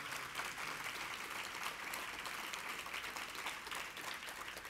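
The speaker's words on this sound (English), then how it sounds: "Give them a round of applause, would you please?" An audience at a public health-care discussion event breaks into continuous applause, a steady, even wash of many hands clapping that sounds somewhat distant and stays unbroken throughout.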